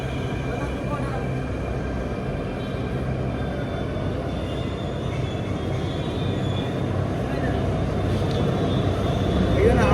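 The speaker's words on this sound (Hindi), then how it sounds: "मेट्रो के इंतजार कर रहल छी। देखियो मेट्रो अबैये वाला छै।" A Delhi metro train runs through the tunnel with a steady, loud rumble and rushing noise that builds slightly toward the end, heard close from inside the carriage.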